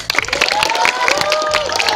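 An audience claps at a school opening ceremony for a junior high in Tayan Hilir, a brief burst of dense applause mixed with crowd noise and faint background tones.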